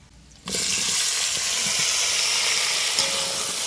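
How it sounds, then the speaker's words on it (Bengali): Tomato, pumpkin, okra and sweet potato drop into hot oil in a kadai with dry red chillies and five-spice seeds, no fenugreek, and a loud, steady sizzling hiss bursts out suddenly and keeps going. "কড়াইতে তেল আছে, শুকনো লঙ্কা আর 5 ফোড়নটা দিয়ে দিই মেথি ছাড়া।"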